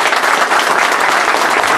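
Brief, loud burst of dense crowd clapping welcoming guests at an event, close and continuous throughout.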